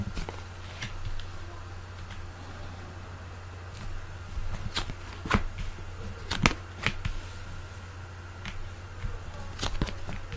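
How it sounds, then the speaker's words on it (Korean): Tarot cards turned over and handled one at a time, giving soft, sparse slaps and snaps scattered over a steady low hum in a quiet room. "타로 카드 하나씩 열어보도록 할게요."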